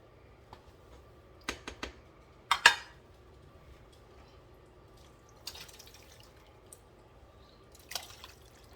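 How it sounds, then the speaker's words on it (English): Goulash mixture is poured into two Pyrex dishes: scattered wet plops, drips and glassy clinks come in short bursts, separated by quiet gaps. "we're going to evenly pour the goulash mixture into the 2 Pyrex dishes"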